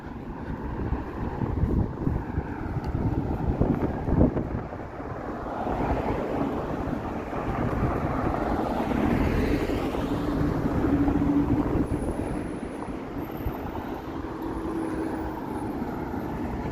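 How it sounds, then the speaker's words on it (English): Wind blowing on a sunny city street in Toronto's west end, heard as a heavy low rumble buffeting the microphone in uneven gusts, swelling and easing over several seconds, with faint distant traffic beneath and no speech. "It's just the wind."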